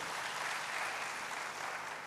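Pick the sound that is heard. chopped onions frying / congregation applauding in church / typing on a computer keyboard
congregation applauding in church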